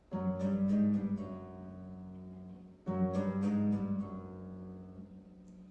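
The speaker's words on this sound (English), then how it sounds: "for the pedal slides or pedal glissandos, you just pluck it once and then use the pedals to create the motion" Two plucked harp tones, each struck once and then bent through pedal changes so the pitch slides, ringing clearly and alone in a recital lecture setting.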